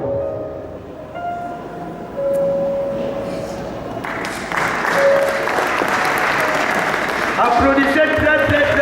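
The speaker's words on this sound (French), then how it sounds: "Applaudissez très très très fort. Clap, clap, clap, clap." A church congregation at a pastor's retirement ceremony breaks into applause that grows louder and denser over several seconds, mixed with a steady background hum and a voice speaking.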